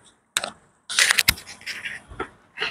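Loose, worn alternator bearing on a Proton Saga engine making irregular knocking and rattling play noises, close to the mic, in short uneven bursts with brief gaps.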